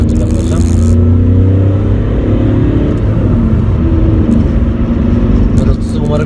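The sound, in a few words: Volkswagen Polo 1.2 TDI Bluemotion engine rumble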